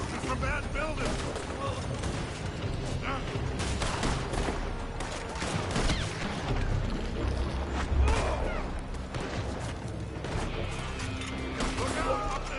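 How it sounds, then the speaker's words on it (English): A gunfight in Red Dead Redemption with shots fired from a building: a steady barrage of overlapping gunshots and impacts runs throughout, loud and chaotic, while voices talk underneath. "They're shooting from that building!"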